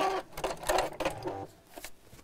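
A sewing machine sewing fabric during a live sew-along, heard in short, close bursts of mechanical whirring that start and stop, fading to quiet near the end.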